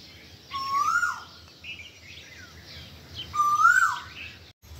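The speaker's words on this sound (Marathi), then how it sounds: "तिकडं कोकिळ ओरडत होता इतक्या वेळेस" A koel calls twice across a soybean field, each call a clear rising whistle followed by softer notes, a few seconds apart, carrying over quiet open-air background.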